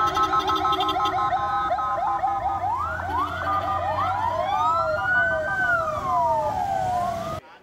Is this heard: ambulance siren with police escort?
yes